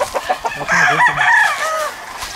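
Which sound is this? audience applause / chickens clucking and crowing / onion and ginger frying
chickens clucking and crowing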